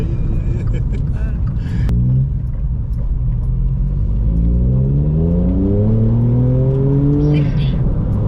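A VW Up GTI with 155 bhp accelerates hard from inside the cabin, its engine rising through the gears in loud, climbing revs with brief drops at each shift.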